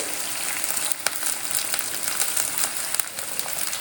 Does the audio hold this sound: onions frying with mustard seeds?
yes